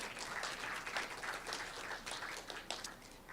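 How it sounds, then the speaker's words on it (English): An audience at a Juneteenth celebration panel discussion in Oregon City gives a round of applause for a panelist, steady scattered clapping that sounds soft and somewhat distant throughout. "The Kim Moreland, so she gets a round of applause too"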